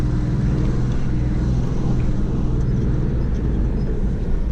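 A four-wheel drive vehicle grinding up a steep hill gives a steady, heavy low rumble, close and continuous, with no break in the engine note.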